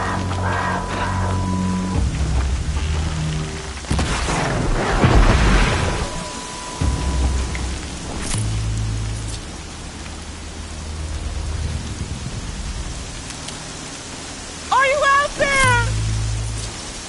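Heavy rain in the video game Horizon Zero Dawn, a steady hiss with a loud thunder rumble partway through, alongside scattered voices and game sounds.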